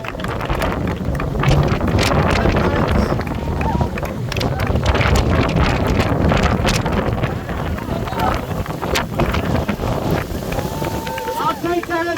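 Wind gusts roar steadily across an outdoor protest rally, a constant loud rumble buffeting the microphone for the whole stretch, with scattered cheers and voices from the crowd mixed in.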